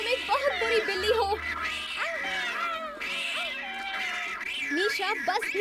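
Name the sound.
cat meowing in a cartoon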